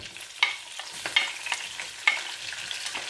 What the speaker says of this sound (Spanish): echo la cebolla.